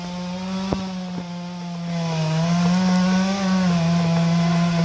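A chainsaw cuts through sweetgum timber with a loud, steady buzzing drone that deepens slightly under load, and a few sharp clicks and cracks sound near the start.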